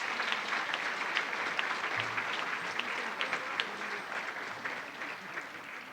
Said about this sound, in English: Let's give a round of applause to our BSE graduates.